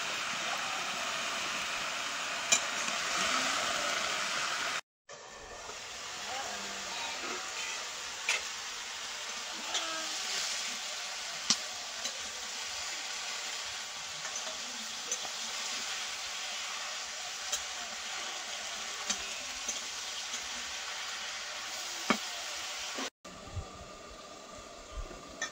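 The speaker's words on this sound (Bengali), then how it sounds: "হলুদ, লবণ হলুদ দিয়ে সবজিটা ভালো করে কষিয়ে নেব।" Vegetables with turmeric and salt sauté in a pan at a Sundarbans outdoor cooking spot, giving a steady, hissing sizzle that continues with a few faint clicks and brief breaks.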